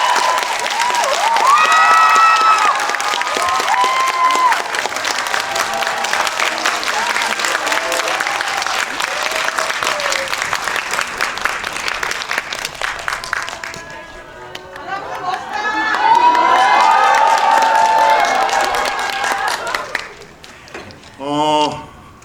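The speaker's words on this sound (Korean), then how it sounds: "힘찬 박수로 맞이해주십시오." A cinema audience at a Korean film talk event claps loudly for the writers, director and actor of the basketball film 'Rebound', mixed with cheering and chatter. It fades, swells again, then drops off near the end.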